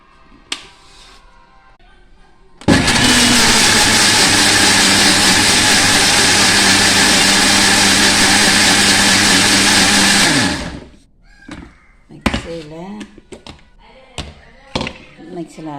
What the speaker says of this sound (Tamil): இப்போ இது மிக்சியில் வச்சு அரைப்போம்